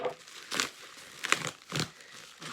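A hard-to-open gift package is being pried apart, with four short bursts of crinkling and crackling plastic or paper, close and fairly quiet.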